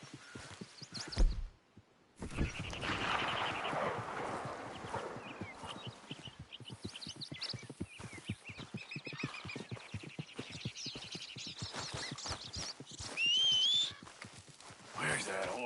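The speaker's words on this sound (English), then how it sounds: "where's that horse got to?" Horse hooves clip-clop in uneven beats in Red Dead Redemption 2, mixed with other game sounds and a brief high whinny near the end, all moderately quiet.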